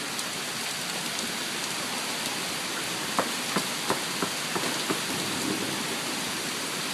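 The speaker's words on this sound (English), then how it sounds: "Yeah, I think the hail's gone. Just rain now." Steady rain pouring outdoors just after a hail storm in Mamaroneck, New York, a dense even wash of noise with a handful of faint sharp drips or taps in the second half.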